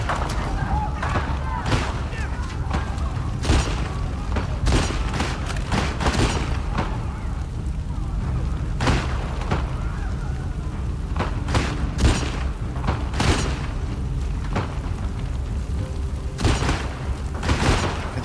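Gunfire in The Last of Us Part II, sharp shots and booms cracking out at irregular intervals throughout a tense firefight, with a player speaking at times between the bursts.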